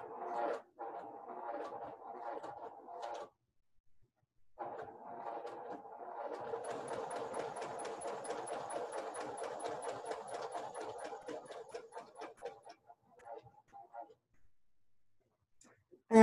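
A sewing machine stitches a cloth face mask, with short bursts of motor whir broken by pauses, then a longer rapid stitching run with a fast ticking needle rhythm, close by and at moderate volume.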